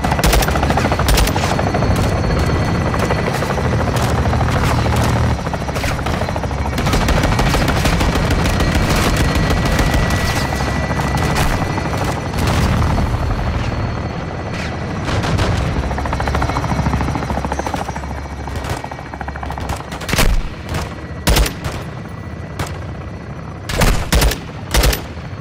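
Called-in fire support in Call of Duty Modern Warfare 2 campaign: sustained heavy gunfire and rotor-like aircraft drone roar continuously, dense and loud, then breaking into separate sharp bursts and blasts toward the end.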